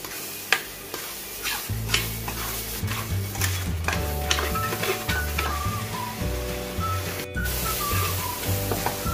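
Galangal and spices sautéing in a pan: a quiet sizzle under scattered spoon clicks and scrapes, with a faint melodic tone running through the background and no voices.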